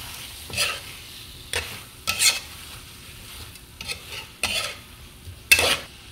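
A salmon head is sautéed in a pan for sinigang, with intermittent bursts of scraping and stirring over a soft, low sizzle and a few light metallic clinks.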